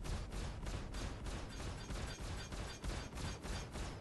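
Stock ship weapons firing in the space game Star Citizen, a steady rapid stream of repeated blasts throughout, fairly faint and with no talk.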